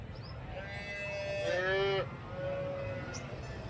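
A cow moos at a cattle market in Krishnagiri, one long drawn-out low call followed by a shorter second moo, moderately near over a murmur of background noise.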